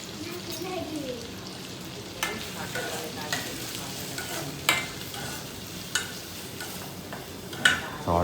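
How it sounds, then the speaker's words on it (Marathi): Maggi noodles with onions cook in a pan in a hotel room, making a soft, continuous frying sizzle. Intermittent clinks and scrapes of stirring break in now and then, and faint talk can be heard in the background. "बघा पूर्ण मॅगी कांदा विंदा टाकून मॅगी फुल नूडल्स तयार करणार आहे."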